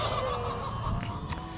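Chickens on a farm pasture cluck and honk in a dense flock chorus close by, with steady low background noise and a brief sharper call near the end.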